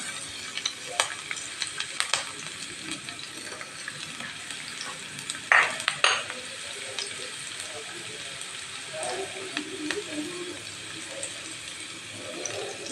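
Soft sizzling and crackling of shallots frying in oil, with a few stirring clatters partway through; quiet and steady throughout.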